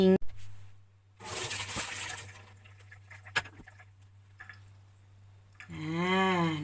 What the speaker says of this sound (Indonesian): Habis itu ditiriskan dan diguyur dengan air dingin.